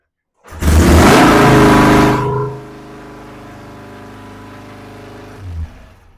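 A Norton motorcycle engine catches after a kick start and revs loudly for about two seconds, then settles into a steady idle with a brief blip near the end.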